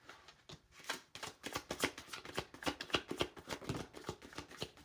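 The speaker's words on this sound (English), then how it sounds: "Just going to shuffle and get them all out." A tarot deck is shuffled by hand in a quiet room: a rapid series of crisp, close riffling and tapping card sounds, each brief and sharp, repeated irregularly throughout.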